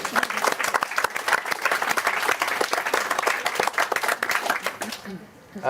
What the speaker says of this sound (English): I think let's give them all a round of applause.